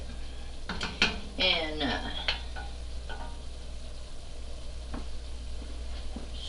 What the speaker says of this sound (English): Well, stir it up a little bit.